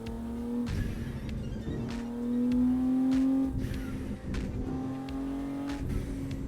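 A race car in the No Hesi driving game brakes hard and then accelerates, its steady engine drone rising and falling through gear changes, with the engine note swelling mid-clip, loud and close throughout.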